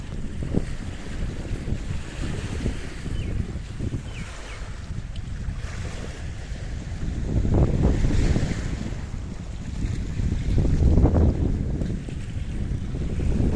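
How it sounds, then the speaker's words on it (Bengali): A strong river current rushes past near Ghoramara Island in West Bengal, a continuous broad wash of water swelling and easing, mixed with gusty wind buffeting the microphone and no voices. "প্রতিনিয়ত কিন্তু জল এভাবে কিন্তু স্রোতের মাধ্যমে আসছে।"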